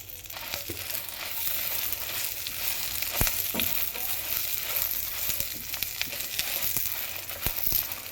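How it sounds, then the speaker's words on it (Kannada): Dry red chillies and curry leaves dry-roast in a pan, producing a soft steady sizzle and crackle with scattered sharp pops and stirring scrapes, close and fairly quiet. "ಇವಾಗ ಕರಿಬೇವು ಕೂಡ ಜೊತೆಗೇ ಹಾಕಿ ಹುರ್ಕೊತಾ ಇದ್ದೀನಿ"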